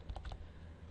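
Quick typing on a computer keyboard, a short cluster of four or five close, light key clicks followed by quiet room tone.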